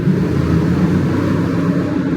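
Large car driving through a road tunnel, a continuous low engine and road roar with a reverberant hum, steady and fairly loud throughout.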